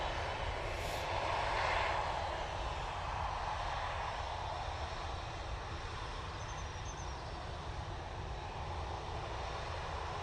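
Jet2 Boeing 737-800 touching down and rolling along the runway, a loud, steady engine roar with broadband rumble that holds throughout, heard from nearby without talk.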